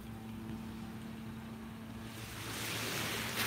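Ocean waves wash onto a beach with a steady low wind-like rush, swelling louder and brighter toward the end as surf breaks nearby.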